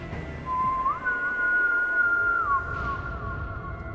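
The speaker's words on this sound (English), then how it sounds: "And it was a whistle, very loud in my ear" A single loud, close whistle during a ghost investigation, a sustained tone that steps up in pitch, holds, then drops back near the end, over faint background hiss.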